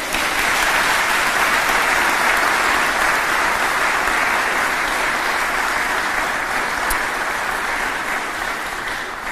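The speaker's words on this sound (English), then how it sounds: "Let's give the family a round of applause." Sustained, dense audience applause at a military promotion ceremony for a brigadier general, honoring the family; steady and loud throughout with no speech on top.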